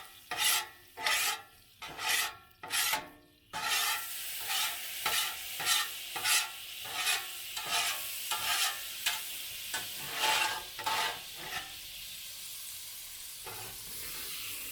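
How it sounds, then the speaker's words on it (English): A scraper works across a Blackstone griddle during cleanup after vegetables and sausage, loud rhythmic rasping strokes that come fast at first, then slow into a steady scraping over a faint sizzle. "Blackstone Griddle cleanup is real easy to do for any griddle."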